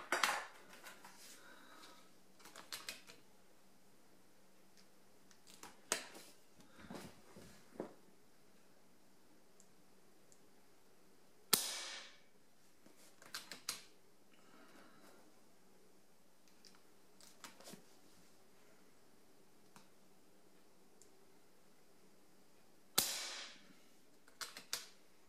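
An FX400 .22 air rifle on high power fires 18-grain pellets: three sharp, short cracks roughly eleven seconds apart, with small mechanical clicks and handling noises between shots in an otherwise quiet setting.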